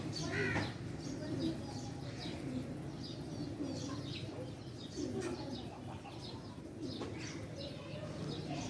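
Pigeons coo softly and repeatedly at moderate distance, with occasional wing flutters and faint voices in the background.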